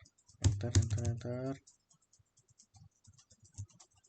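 Light, faint clicks of keys being tapped on a computer keyboard while entering a shell command, coming in a loose, uneven run just after a short burst of someone speaking.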